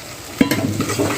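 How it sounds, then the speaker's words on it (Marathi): Tomato and potato stirred and fried in oil with spices for a tondli and raw mango vegetable dish: a sharp utensil scrape opens, then a steady close sizzle of frying runs under soft stirring scrapes, with no talking. "टमॅटो जे आहे तो आपल्याला यामध्ये घालायचा आहे आणि छान असं फ्राय करून घ्यायचं आहे"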